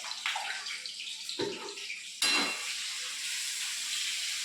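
Ginger garlic paste frying in oil in a pan, with a steady broad sizzle that flares loudly at a couple of moments as the paste hits the hot oil, then settles into a continuous hiss.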